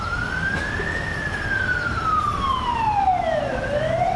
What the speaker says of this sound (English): Another ambulance.